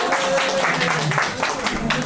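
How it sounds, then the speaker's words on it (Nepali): An audience claps loudly to welcome a dancer at a Deusi Bhailo Tihar celebration in London, with steady broadband applause mixed with voices and faint music throughout. "ल जोरदार तालीले दिलु म्यामलाई स्वागत गरौँ"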